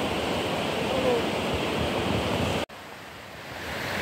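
Clear water rushing through the deep Jahanam Dareh Si gorge, a steady broadband roar close by that cuts out abruptly near the end before resuming more faintly.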